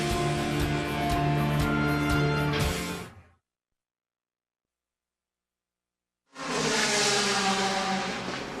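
Race cars running night practice at Road Atlanta ahead of the 2008 Petit Le Mans make a loud, continuous engine roar. It cuts out to near silence for about three seconds, then comes back at full strength.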